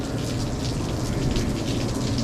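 Water sprays down onto a frozen walk-in cooler evaporator during repair, a loud, steady hiss and patter like heavy rain drumming on metal, continuous and close with no voices.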